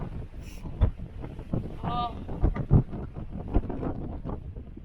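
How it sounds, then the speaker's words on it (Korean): Strong gusting wind buffets the microphone on a mountain trekking trail in Tiger Leaping Gorge, China, a steady low roar with brief louder thumps, and a voice speaks faintly underneath. "아 바람 장난 아니다."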